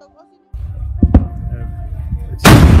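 A volcanic eruption explosion arrives as a sharp crack after a low rumble starts, then a loud broad blast bursts in near the end.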